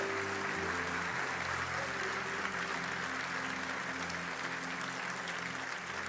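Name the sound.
audience applause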